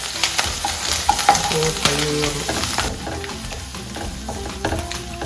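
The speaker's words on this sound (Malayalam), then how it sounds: "അതിൻ്റെ അകത്തോട്ട് സവാള ഇടുന്നതിന് തൊട്ട് മുന്നേ നമ്മൾ എടുത്ത് വെച്ചിരുന്ന വെളുത്തുള്ളിയുടെയും ഇഞ്ചിയുടെയും പേസ്റ്റ് കൊടുക്കണം." Garlic-ginger paste frying in hot oil with mustard seeds for a Kerala-style egg roast, with a steady close sizzle, crackles and stirring scrapes against the pan that ease slightly in the second half, no talking.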